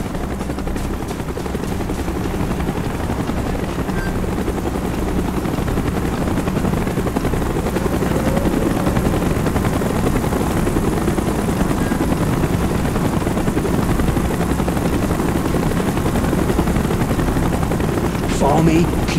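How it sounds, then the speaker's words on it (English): Loud, continuous rotor thrum of a helicopter in the Call of Duty Black Ops video game, holding steady and close throughout, with scattered bursts of game noise mixed in and no speech. "Chopper's inbound!"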